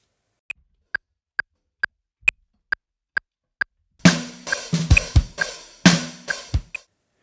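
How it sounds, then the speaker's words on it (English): A standard Pro Tools/Cubase-style triangle wave metronome click ticks eight times in steady rhythm, crisp and centered, alone before a burst of louder drumming takes over. "typical triangle wave click, where the upbeat is on a certain frequency and the downbeat's on another"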